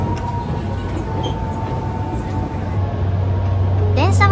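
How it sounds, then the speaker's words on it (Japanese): Nankai Railway Gran Tenku sightseeing train running through a hilly stretch toward Koyasan, a steady low rumble with a faint whine that grows louder near the end, with a brief rising tone at the finish. "電車は奄美駅を通過しました。"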